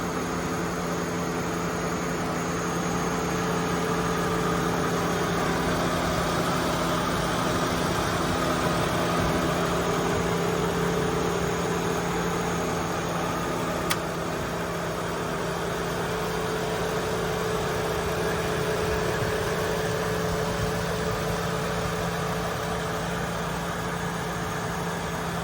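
Chevrolet Malibu engine idles steadily with the hood open, a continuous even hum with a whiny high tone and broadband hiss, constant and close throughout with no speech.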